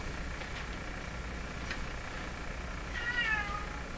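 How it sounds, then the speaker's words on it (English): A cat meows near the end, a short rising-and-falling cry over a steady background hiss, with a few faint clicks earlier; moderately close and alone, with no voices. "I hear you, cat."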